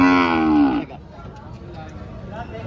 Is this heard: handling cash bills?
no